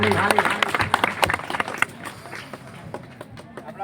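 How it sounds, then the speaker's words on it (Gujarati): Audience applause at a community gathering welcoming a guest: a loud burst of clapping that thins out and fades over a few seconds. "જોરદાર તાળીથી વધાવો એમને. તાળી."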